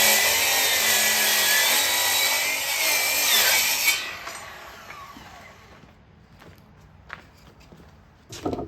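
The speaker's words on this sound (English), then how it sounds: "I'm just gonna make a straight cut right here with the miter box" A hand saw rasps through wood in a miter box during arcade cabinet restoration woodwork, a dense continuous stroking for about four seconds, then the sawing stops, leaving quiet handling noises and a few light knocks near the end.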